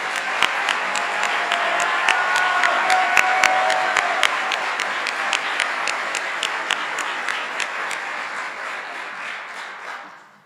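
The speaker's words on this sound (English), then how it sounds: "Another round of applause" Sustained applause from the audience at a Cicero Prep class of 2025 graduation ceremony, a dense wash of clapping with a few sharp individual claps standing out, gradually thinning and fading out at the end.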